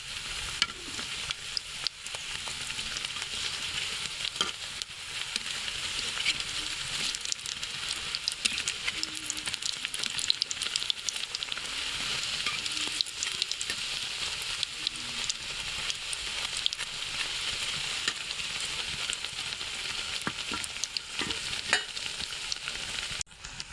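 Spinach and egg chop frying in a pan over low heat, giving a steady, dense sizzle with occasional pops and stirring scrapes throughout, fairly loud and without talk.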